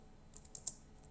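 A few faint, sparse keystrokes on a computer keyboard while typing text in AutoCAD, quiet taps spaced apart with no talk.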